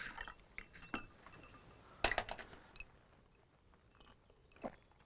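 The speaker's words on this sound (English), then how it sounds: "Now, a couple of ice cubes in there." A couple of ice cubes drop into a glass drink garnished with lavender flowers in a garden setting, giving a few sharp close clinks and crunchy knocks with quiet gaps between them.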